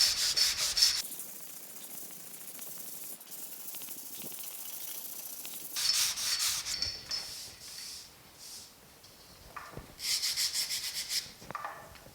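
Hand sanding body filler on a 1950 Chevy truck, repeated rough back-and-forth rubbing strokes in bursts with pauses between, close and moderately loud, no speech.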